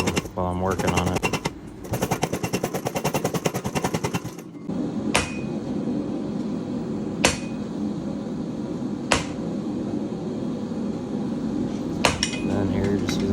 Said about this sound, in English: just using the hot cut to cut it off